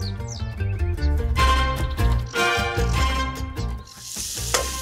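Meat sizzles in hot olive oil in a pan during traditional Turkish cooking at Rumeli Fortress, a loud, close, continuous crackle with music playing over it.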